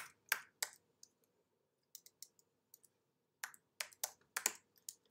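Keys on a computer keyboard tapped in short, uneven bursts of crisp clicks, close and alone against a quiet room.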